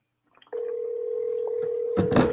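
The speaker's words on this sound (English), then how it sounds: "Let's see if this person picks up the phone." An outgoing telephone call sounds a single steady electronic tone on the line after a few faint clicks. It holds unbroken for almost two seconds before a sudden burst of louder noise cuts across it.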